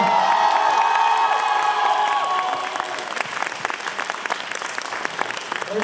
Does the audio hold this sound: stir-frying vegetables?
no